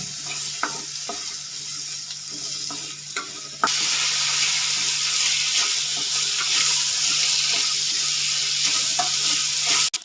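Ivy gourd sizzles steadily in a pan while a utensil scrapes and stirs in short, irregular strokes; the sizzle grows louder and denser partway through.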